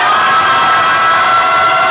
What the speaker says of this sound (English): I have this shot of a crowd of people saying surprise.